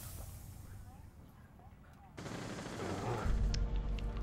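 Video game gunfire, distant and faint at first, then a louder stretch of rapid shots and crackling bursts rising near the end, with a voice talking over it.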